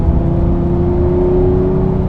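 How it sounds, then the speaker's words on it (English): A Lamborghini Murcielago SV V12 engine drones steadily at speed while driving, a smooth sustained hum with a strong low note and no voices. "That V12. Listen to that."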